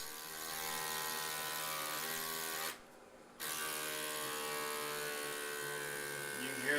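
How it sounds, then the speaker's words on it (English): A rechargeable handheld vacuum sealer motor pumps air out of a jar. It gives a close, steady whining hum, cuts out briefly, then resumes at the same pitch. "It just vacuum sealed all the air out of there."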